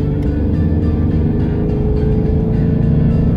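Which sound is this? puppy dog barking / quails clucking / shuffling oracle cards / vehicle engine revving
vehicle engine revving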